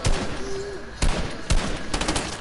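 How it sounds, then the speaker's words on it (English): Video game gunfire as a player shoots at a ball: sharp broadband reports at about the start, one, one and a half and two seconds, fairly loud over busy game background. "I'm going to shoot the ball now."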